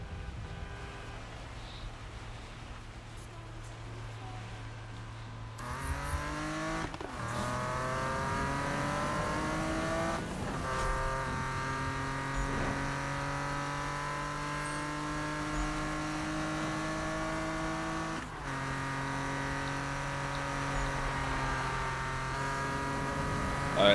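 Racing car in Need for Speed 2015, engine revving up through repeated gear changes with rising whine, loud and steady across the stretch.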